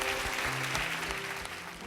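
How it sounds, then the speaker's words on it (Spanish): Applause from a church congregation, a broad wash of clapping at moderate volume that holds steady and fades slightly, with a low hum beneath it. "un aplauso para toda la gente que nos está viendo"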